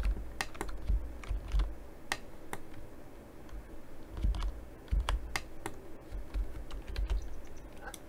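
A computer keyboard on a desk with its USB cable stretched across it clacks under steady typing, sharp close keystrokes coming in uneven bursts over a low background hum.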